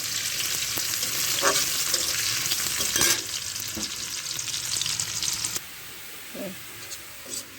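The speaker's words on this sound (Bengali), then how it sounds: "বড় বড় রসুনের কোয়া কষে দিয়েছি সেগুলো আমি ভালোভাবে ভেজে নেব" Close, steady sizzling of large garlic cloves frying in oil, with occasional spatula scrapes; the hiss drops quieter toward the end.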